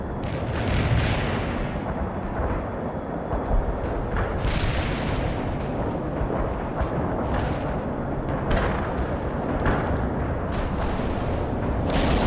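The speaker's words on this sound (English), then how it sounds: "Firing confirmed. Bombard the target coordinates." Artillery bombardment in the video game World in Conflict: a steady, heavy rumble of shelling with repeated booming blasts rising out of it, loud and sustained, with no voices.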